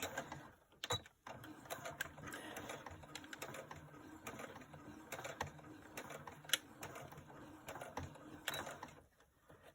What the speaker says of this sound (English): why am I sewing?